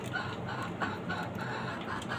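A fully adult rooster, about seven to eight months old, in a rooftop chicken farm gives a series of soft, repeated clucks at a steady pace over a constant background hiss, nearby but fairly quiet.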